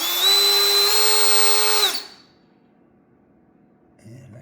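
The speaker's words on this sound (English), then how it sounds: "make a mark with this drill where I want it." A power drill spins up on a 1968-72 Chevelle to mark holes for the inside window felt, giving a steady, loud, high whine for about two seconds before it winds down to near silence.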